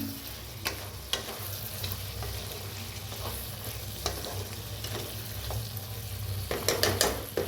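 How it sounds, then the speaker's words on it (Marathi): Cooked potatoes for sambar are stirred in a sizzling pan, making a close, steady frying hiss broken by scraping strokes that grow busier and louder near the end. "तर आता एकदम मिक्स करून घेऊया"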